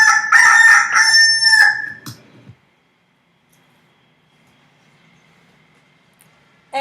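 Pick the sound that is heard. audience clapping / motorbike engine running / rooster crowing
rooster crowing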